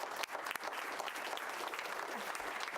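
Sustained applause fills a school board meeting room, a dense steady patter of many hands clapping at a moderate distance throughout, without talk.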